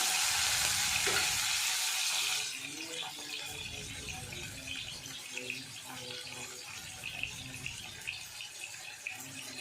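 Chopped tomatoes hit hot oil in a pan for an Assamese magur fish curry, giving a loud sizzling hiss for about two seconds that then settles into a softer, steady crackle with light utensil clinks.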